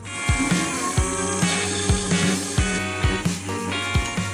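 Power tool with a blade cutting metal fixing brackets for a metal frame, a steady harsh grinding whine running throughout with repeated low thumps as the blade bites, close and fairly loud.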